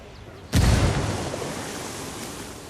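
A frag grenade detonates in the video game Ghost Recon Wildlands, a sudden loud boom about half a second in, followed by a long, fading rumble and debris noise.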